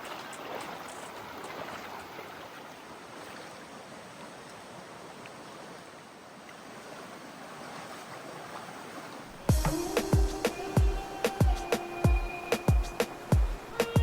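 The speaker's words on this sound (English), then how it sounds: "you'll start to hear the roar and the sound of the water getting louder and louder" Creek water in Royal Gorge, a steady rushing roar that is moderately loud and continuous, later joined by sharp rhythmic clicks and taps close by.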